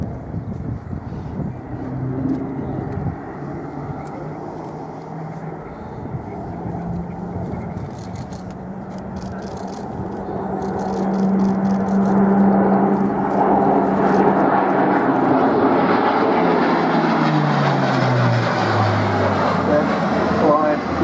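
An Airbus A400M military transport aircraft climbs steeply in a flying display at an airshow, its engine roar building steadily and growing louder toward the end, with a commentator's voice over it.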